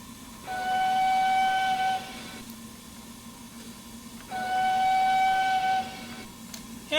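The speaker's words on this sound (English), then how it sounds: "let's listen to that whistle again." Two long blasts of a Peckett steam locomotive whistle in Train Simulator 2021, clear and sustained with a brief pause between, over a low steady hiss.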